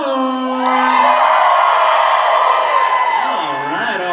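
Anime convention crowd at a Hazbin Hotel panel cheering, whooping and yelling together in a loud, sustained roar that holds steady and fades slightly at the end, with a voice rising over it.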